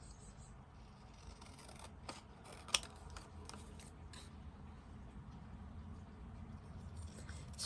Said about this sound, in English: when I'm cutting sentiments, I like to use a bigger pair of scissors.